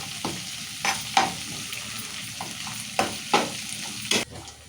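Peanuts and curry leaves frying in hot oil for crispy poha chivda, with a steady sizzle broken by about eight sharp scraping strokes of a spoon stirring the pan, close and fairly loud.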